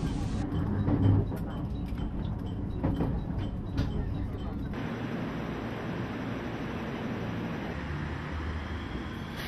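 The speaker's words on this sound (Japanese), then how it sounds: "この新快速電車は普通列車なので特急列車に先に道を譲ります" A Japanese rapid commuter train rumbles steadily along with a broad, even roar of wheels and air, loud and close throughout, as if heard from inside a carriage.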